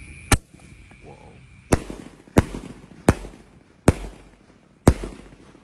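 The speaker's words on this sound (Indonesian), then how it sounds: "menyalakan peluru pelontar Basoka Roman Candle malam ini" Roman candle bazooka fireworks fired at night: six sharp, loud launch bangs at uneven intervals, each with a brief crackling tail and quiet gaps between.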